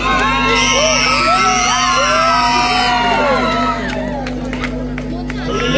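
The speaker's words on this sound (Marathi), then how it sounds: "जोरदार टाळ्या झालं पाहिजे" A crowd at a Ganesh festival competition prize ceremony cheers and whoops loudly, with shouts and yells rising over a steady electrical hum from a sound system, close and dense.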